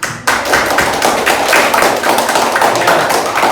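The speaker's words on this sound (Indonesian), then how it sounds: "Oke, kasih tepuk tangan." A classroom of students claps together in a dense, fairly loud round of applause that starts abruptly and runs steadily for a few seconds without voices over it.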